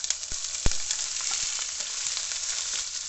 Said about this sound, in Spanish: ahora vamos a agregar los chiles, los corté así en rodajitas